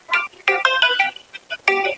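A phone ringtone plays a bright, repeating electronic melody in short bursts, loud and close, with no talking.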